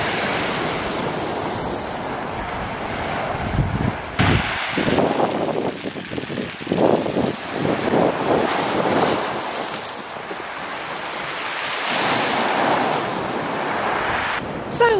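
Waves surge and break on the shore at Sheringham amid gusting wind buffeting the microphone, loud and close, with rushing surges swelling and falling over several seconds.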